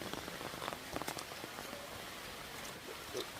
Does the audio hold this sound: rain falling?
yes